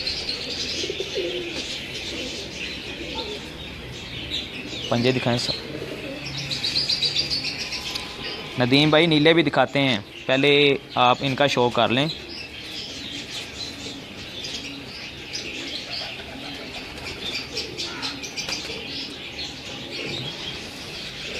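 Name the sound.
famous Dab pigeons of Ustad Tahir Ahmad Bhatti of Kasur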